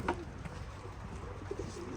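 Racing pigeons in a loft give a few soft, low coos over a steady background hum, brief and not very loud.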